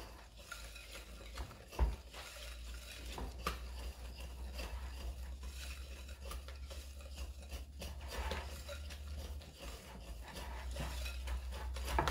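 Sweet potato pancake batter with flour mixed by hand in a bowl, soft steady stirring and scraping with occasional light clinks of a utensil, quiet and close over a low background hum.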